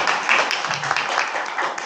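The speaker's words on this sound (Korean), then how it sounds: "큰 박수로 맞이해 주시기 바랍니다" An audience applauds to welcome an architect to the podium at a talk, a short burst of steady, moderately loud clapping from a crowd.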